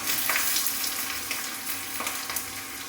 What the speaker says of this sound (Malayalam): അതിനുശേഷം നമ്മൾ സവാള ഇട്ട് കൊടുക്കുന്നു